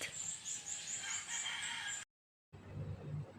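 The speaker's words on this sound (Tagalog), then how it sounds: "Kung may marinig kayong ibon, kasi po, madaling araw." A rooster crows at dawn in a rural mushroom-growing area, a loud, clear call repeating in pulses before a brief cut and a fainter continuation, with no voices.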